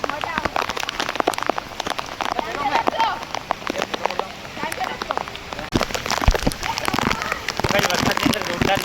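Heavy monsoon rain pours down, a dense, loud patter of drops hammering surfaces close by throughout, with people chatting over the downpour.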